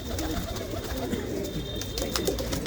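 Pigeons coo inside a loft, soft repeated throaty calls overlapping close by over a steady low background hum, with no talking.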